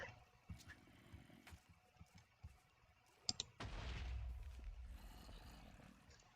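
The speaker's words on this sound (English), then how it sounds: "I just heard an explosion outside." An explosion in the Minecraft video game bursts in as a sudden loud boom after scattered soft clicks, followed by a rumbling roar that gradually fades.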